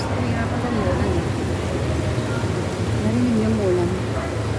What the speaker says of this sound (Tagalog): Narinig yung ulan.